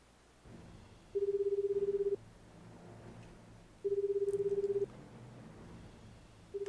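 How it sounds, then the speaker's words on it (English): Cell phone call in the video game 428: Shibuya Scramble, two long pulsed ring-back tones separated by pauses over a low hum, with the start of a third ring at the end. "Pulling out his cell phone, Kano dialed up Osawa."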